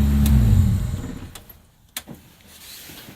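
A car with an H-series engine swap and an added oil pressure gauge rumbles low and close at first, then fades within about a second to a quiet background hum with a few faint clicks.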